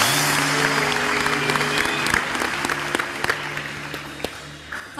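Studio audience applauding a singer on a television programme: a steady, dense wash of clapping with sharp individual claps standing out, a faint tonal hum underneath, and no voices.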